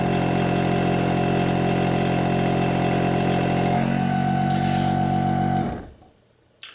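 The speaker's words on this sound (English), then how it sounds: "we'll just let the pump complete its operation" A Rapidox SF6 pumpback pump running steadily with a loud, constant motor hum, then winding down and stopping near the end, followed by a brief click.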